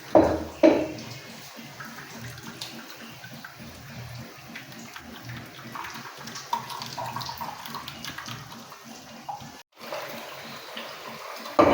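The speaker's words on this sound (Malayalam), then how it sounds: "കുറച്ച് വെള്ളം കൂടി കൂട്ടാം." Water pours steadily into grated coconut for making coconut milk, a continuous splashing flow that stops briefly near the end.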